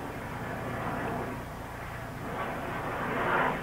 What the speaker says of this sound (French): Il y a un hélicoptère qui passe.